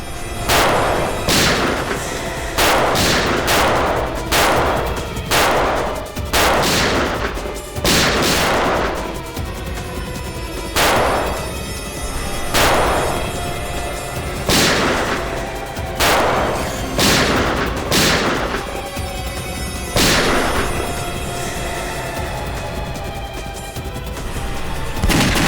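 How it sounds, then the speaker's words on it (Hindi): Gunfire cracks out in a rapid, irregular barrage of loud shots, some in quick clusters, echoing over a constant battle din. "गोली चला।"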